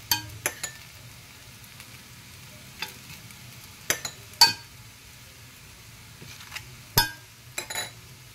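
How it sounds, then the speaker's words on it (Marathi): Mixed-flour thalipeeth frying in oil in a pan gives a low, steady sizzle throughout, broken by several sharp clinks and scrapes of a utensil against the pan. "त्यानंतर त्याच्यावर परत तेल घालायचं आहे,"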